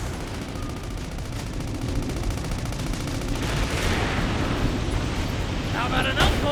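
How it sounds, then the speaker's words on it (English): Machine gun fire in the video game Sand Land, a steady rapid rattle of shots that swells with a burst near the end, loud and sustained under game character voices. "Use the machine gun again!"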